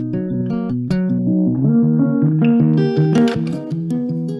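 A song intro plays with a muffled, filtered effect, its melodic synth or guitar notes dull and dark before brighter high tones open up partway through, with no voices.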